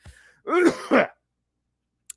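A single rough, throaty cough in two quick bursts, close and loud, followed by silence.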